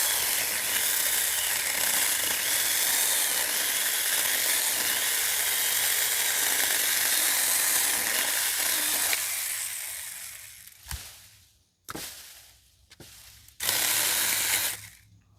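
A small, quiet chainsaw cuts through a fallen tree limb in a yard, a steady broadband buzz for about nine seconds, then stopping and restarting in short bursts with near-silent gaps between them.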